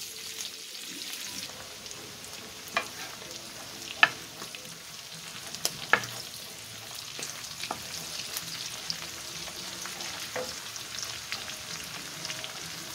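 Calabresa sausage fries on low heat in a pan, a constant soft sizzle and crackle with scattered sharp pops and occasional stirring clicks, no talking over it.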